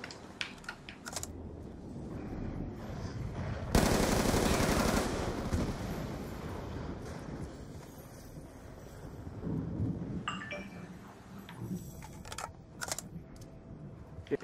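Rapid automatic gunfire from an M-tar rifle in a zombies-mode video game, a loud dense burst near the start followed by scattered shots and clatter, with low game noise throughout.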